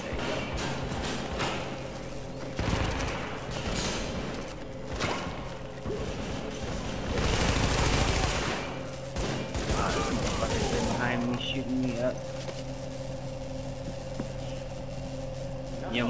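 Rapid volleys of gunfire and mechanical clatter from The Division, a sustained firefight with bursts repeating close by while players talk over the shooting.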